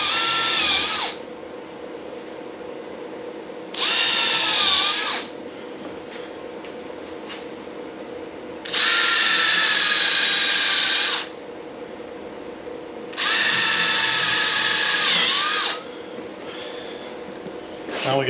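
A power drill bores 3/4 inch holes into a black walnut log for a rustic bench, running in four loud whining bursts of a few seconds each separated by quieter gaps.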